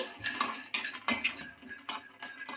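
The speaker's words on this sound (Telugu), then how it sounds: "అందులోకి పల్లీలు అయితే వేసుకుంటున్నానండి పల్లీలని బాగా ఫ్రై చేసుకోవాలి" Peanuts fry in a kadai while a metal spoon scrapes and clanks against the pan in quick irregular strokes, with little audible sizzle under the stirring and no speech.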